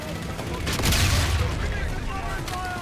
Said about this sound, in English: Not nice to throw grenades at me when I'm throwing up in the air.